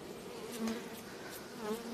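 Honey bees buzz continuously nearby at a migratory apiary during acacia honey harvest, a steady hum with individual bees droning past now and then.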